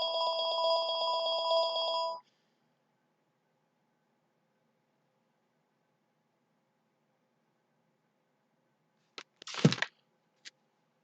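Phone rings from an unknown number, a steady electronic ring tone lasting about two seconds and then stopping, followed by long silence and a few brief handling clicks.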